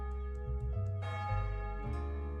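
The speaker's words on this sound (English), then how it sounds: "Oh, noon. I'm like, why are there bells?" Church bells ring at noon in a video game, a few ringing tolls with sustained overlapping tones, clear and fairly quiet.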